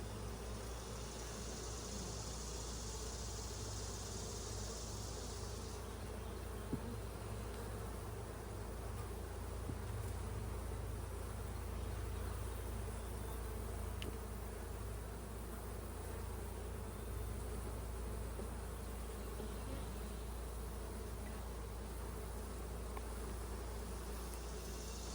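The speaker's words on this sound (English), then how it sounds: "Plenty of bees still working up here." Honey bees at an open beehive hum in a steady close, continuous buzz that swells now and then as individual bees fly near, with a faint low engine-like rumble beneath.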